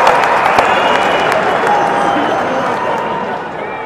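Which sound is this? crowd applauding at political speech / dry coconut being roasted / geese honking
crowd applauding at political speech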